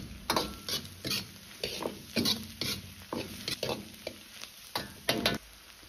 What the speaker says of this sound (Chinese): 继续翻炒10秒钟左右